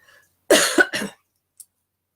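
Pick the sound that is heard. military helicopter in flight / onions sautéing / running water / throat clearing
throat clearing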